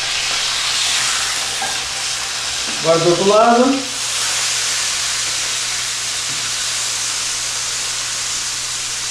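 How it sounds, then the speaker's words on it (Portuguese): A beef fillet sears in a hot pan for a Wellington, giving a loud, steady broadband sizzle that runs throughout, with one brief spoken phrase partway through. "Esse é o truque da selada. Você usa todo o calor que você dispõe na panela para conseguir fechar ele,"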